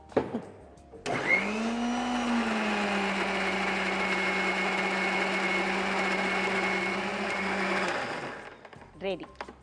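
An electric mixer grinder runs steadily for about seven seconds, whirring loud and close as it grinds soaked tamarind, grated coconut and a little jaggery, then cuts off.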